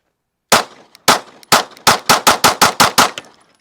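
A Glock 48 pistol fitted with a Radian Ramjet compensator fires about ten sharp, loud shots, two spaced apart and then a quick, even string, each ending in a short ringing echo.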